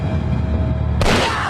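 A single sharp pistol gunshot cracks out suddenly in a Hindi action war movie scene, loud and broadband after a steady low rumble.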